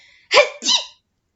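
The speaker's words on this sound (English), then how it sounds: "I huffed, and I snuffed, and I sneezed again." A single close, sharp sneeze in two bursts, a quick intake followed by an explosive release, then silence.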